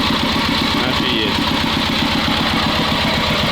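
The engine of a T-16 loader tractor idles close by with a loud, steady diesel chug and a rapid knocking pulse throughout. Someone talks over the engine noise.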